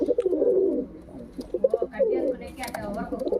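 Pigeons cooing and scuffling while fighting over a nest, with low throaty coos close by and a few flapping bursts, a voice talking over them.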